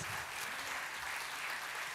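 Church congregation applauding for a pastor's sermon, a steady, fairly faint wash of clapping that fills the moment without a break and with no voices over it.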